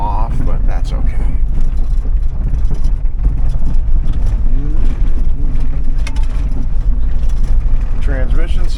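A 2007 Hummer H2 with a 6.0L engine is driven and its transmission shifts, giving a steady, loud engine and road rumble with wind noise beneath a person talking throughout.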